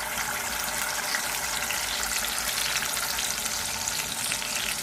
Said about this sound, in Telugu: ఆయిల్ వేడైందండి. ఇప్పుడు మసాలా వేసేసుకుందాము.